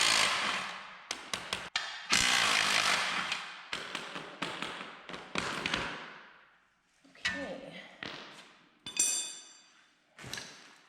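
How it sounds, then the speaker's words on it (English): Hammer blows against the front suspension of a Datsun 240Z, struck repeatedly to free a suspension part, sharp metallic taps in irregular bursts close by amid workshop clatter, with someone talking intermittently. "Then just take your hammer and give it a little persuasion."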